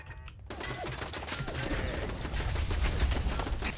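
Dense continuous gunfire and crashing combat noise in the post-apocalyptic shooter Fallout 4, loud and rapid after a brief quiet start, with no talk.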